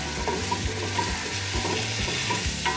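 Flour stirred into two scoops of melted butter in a pan for white sauce pasta, a steady, even sizzle with regular spoon strokes against the pan, close and alone with no talking.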